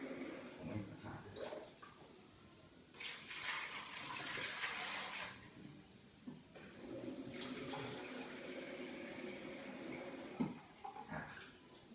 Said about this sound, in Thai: แล้วก็ตามด้วยน้ำหนึ่งลิตร ครึ่ง ผมเอาน้ำนี้เลยนะครับ